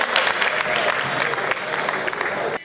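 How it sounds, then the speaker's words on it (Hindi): An audience at a Hindi comic poetry gathering (kavi sammelan) applauds to welcome a poet onstage, a short burst of loud, dense clapping with some crowd noise that cuts off abruptly near the end. "बहुत जोरदार तालियों से दिनेश बंटी शर्मा को आमंत्रित करिए"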